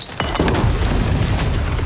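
The Foggernaut Vapor spell in Dofus Unity bursts with a rocket-like explosion, a single deep boom that rumbles on without fading for almost two seconds, loud and close.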